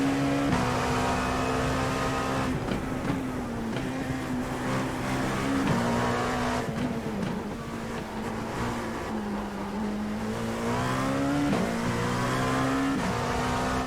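A Dallara P217 race car engine in iRacing drones continuously, its pitch rising and falling through gear shifts and revs, loud and steady with no talking.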